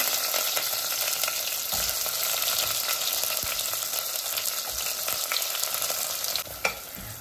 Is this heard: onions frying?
yes